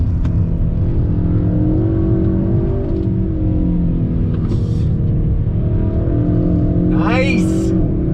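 From inside a 2021 Kia K5 GT after a downshift, the engine's low rumble rises briefly. A sharp high chirp follows near the end, and a voice speaks over the cabin noise.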